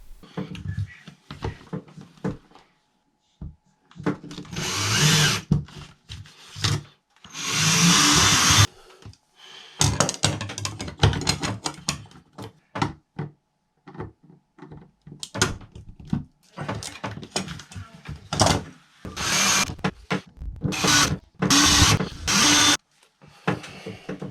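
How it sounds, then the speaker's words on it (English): A power drill bores a small cable hole through a bathroom plasterboard ceiling for a Blauberg Calm Design extractor fan install, in repeated loud bursts that stop and start, with brief pauses and handling knocks between them. "What we need to do though is drill another small hole around here, and that's going to be for the cables to run through the ceiling"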